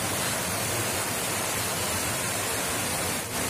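Water rushes steadily at the Panchakki water mill in Aurangabad, fed from six kilometres away, a loud, dense, unbroken roar close by with no other sounds standing out.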